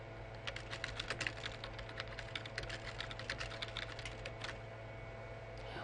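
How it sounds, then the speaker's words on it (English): Someone types a message on a computer keyboard, a quick, steady run of soft clicking keystrokes, close and alone, with a few brief pauses. "type a subject, then type your message"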